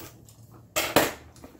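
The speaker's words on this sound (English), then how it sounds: "If I can get it open, fumbling with the scissors all day." Two quick bursts of crinkly cutting and tearing as scissors slice into the plastic packaging of a cleaning starter kit, close by in a quiet room.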